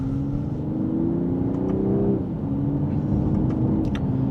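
A 2026 BMW 540i xDrive in sport mode pulls hard in second gear, its engine note rising steadily, dipping briefly at a shift, then climbing again under a constant cabin rumble.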